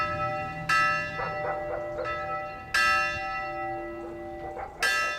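A sixteenth-century church bell at the Protestant temple of Salinel tolls three times at even intervals, each strike ringing out and decaying slowly, with faint lighter chimes between the strokes.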